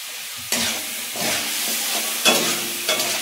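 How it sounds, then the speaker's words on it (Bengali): Crabs frying in a pan at home, a steady close sizzle with bursts of hissing spatter and stirring, loud throughout without any voices. "এখন কাঁকড়াগুলো ভেজে নিই সুন্দর করে"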